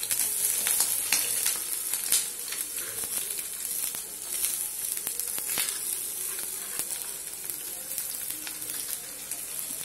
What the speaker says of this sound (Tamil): ஃபர்ஸ்ட் நல்லா டீப் ஃப்ரை பொன்னிறமாக ஆகிற வரைக்கும் ஒரு 2 minutes ஃப்ரை பண்ணிக்கோங்க